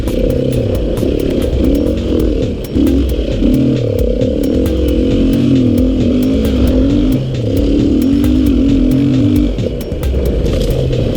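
A Beta RR480 enduro dirt bike engine runs loud and close, dipping briefly a few times as it falters and stalls under the rider on an enduro loop.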